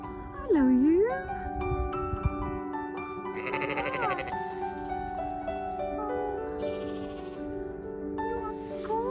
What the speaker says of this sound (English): Yes, it's a baby sheep.